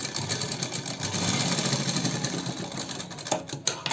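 A sewing machine stitches a strip for a princess-cut blouse, giving a steady, fast mechanical whirr that runs continuously at close range before a few knocks and clatters near the end.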